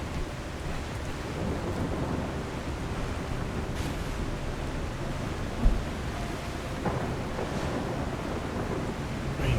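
A storm in the video game The Last Caretaker rumbles with heavy rain and wind, and a low thunder crack booms once midway through the steady downpour.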